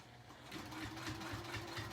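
A sewing machine set to a long stitch length, around 3, runs steadily along the bottom edge of a fabric rectangle, giving a close, moderately quiet, rhythmic mechanical whir with evenly spaced needle pulses.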